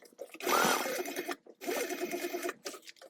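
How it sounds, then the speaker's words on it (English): Sewing machine stitching through a fabric lining panel for a sling bag, two bursts of fast whirring needle rattle separated by short pauses, fairly close and moderate in level. "I'm just stitching through the lining panel piece"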